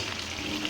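Cut potatoes hit the hot oil in a pan for a country chicken curry and stir-fry with a brief, even, close sizzle.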